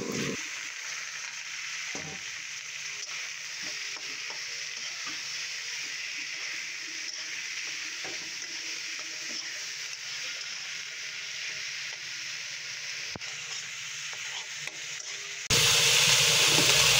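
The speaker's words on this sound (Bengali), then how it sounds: "শাক বাগার দেওয়ার জন্য রসুনগুলো ভেজে নিচ্ছি" Garlic cloves fry in hot oil for tempering leafy greens, giving a steady, even sizzle throughout that swells louder and brighter in the last moments; no one speaks.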